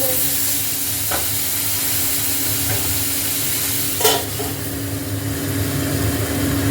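Nigella seeds and burnt garlic sizzle in hot oil as split peas (motor dal) go in for a pumpkin-greens dal: a loud, steady frying hiss with a brief louder burst partway through.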